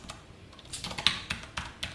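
Typing on a computer keyboard during a JavaScript coding lesson, a run of close, crisp key clicks with irregular rhythm and a few sharper strokes, heard alone without talk.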